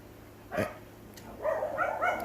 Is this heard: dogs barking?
yes